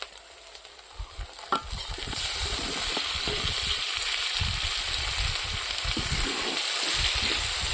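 Eggplant pieces dropped into hot oil with curd and spices in a pan for a dahi egg curry: a couple of clinks, then a loud, steady sizzle and frying hiss with stirring scrapes, close up, with no talking.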